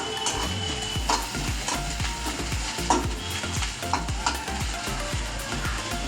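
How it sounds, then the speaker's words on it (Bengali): Onions fry in a pan for a chickpea ghugni, with steady sizzling and repeated scraping strokes of a spatula stirring them, close and continuous with no talk. "পেঁয়াজটা একটু ভাজা ভাজা হোক।"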